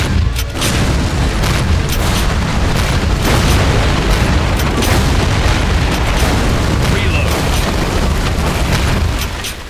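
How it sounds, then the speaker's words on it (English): Gunfire from the Wii shooter Reload pounds on without pause, a dense loud run of booming shots and explosions that fills the whole stretch, with a voice partly buried beneath it. "Each gun has its own sound and all the weapons sound nice and full."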